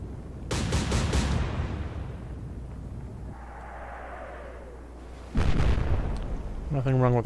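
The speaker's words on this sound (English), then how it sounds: "Nothing wrong with their gunnery, though." Destroyer gunfire and bursting shells in a naval battle game, heavy booming explosions at the start and again near the end, with a calmer stretch of rumble between and a voice talking over it.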